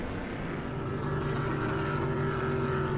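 P1 SuperStock V-bottom powerboat racing at the Madison Regatta, a continuous loud droning engine roar that holds steady throughout without pause.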